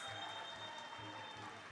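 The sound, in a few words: applause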